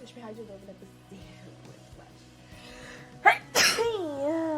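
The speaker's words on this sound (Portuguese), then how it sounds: "Vou espirrar de novo, não é possível." A single sharp human sneeze bursts out near the end after a quiet stretch, followed by a drawn-out vocal groan, with faint music and soft talk in the background beforehand.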